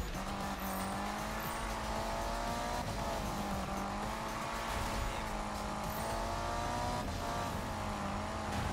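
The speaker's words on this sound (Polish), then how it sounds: "Zobaczymy przy okazji jak mi pójdzie w moim lancerku, w jaki czas uda mi się osiągnąć metę." A Mitsubishi Lancer races in Need for Speed 2015, its engine droning steadily at high revs with subtle pitch shifts as gears and speed change, continuous and close with no talk.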